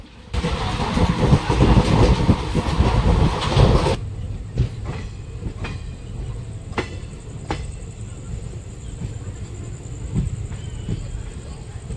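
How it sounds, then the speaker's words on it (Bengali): The Kanchankanya Express rolls along at night with a loud, heavy rumble for a few seconds. It then settles into a quieter steady hum with sharp, evenly spaced clicks from the wheels over the rail joints. "তখন পেছনে থাকা কোচগুলো চাঁদ এবং সূর্যের মতো প্ল্যাটফর্মের আলো থেকে অনেকটাই দূরে পড়ে যায়"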